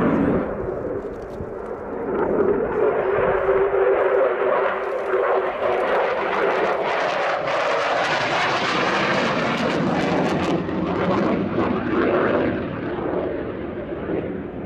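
A Belgian Air Component General Dynamics F-16AM Fighting Falcon jet roars through a flying display, its loud engine rising and swelling with a rumbling, crackling thrust that persists throughout.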